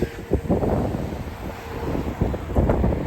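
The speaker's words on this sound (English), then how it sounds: "I bring my microphone with me so you can hear wind" Wind buffets a microphone outdoors on a very cold, snowy day on a Boston street, a steady low rumble with gusty surges that swell louder near the start and toward the end.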